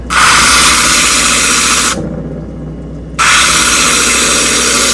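Power tool grinding a bevel onto baroque beads, a loud steady high-pitched whine that runs for about two seconds, drops away briefly, then starts again at full strength with no voices.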